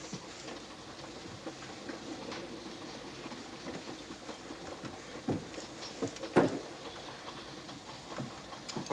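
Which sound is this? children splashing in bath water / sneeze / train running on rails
train running on rails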